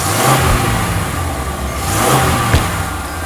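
A car engine runs steadily just after starting, loud and close with a constant mid-pitched rumble and a slight rev swell, with no voices over it.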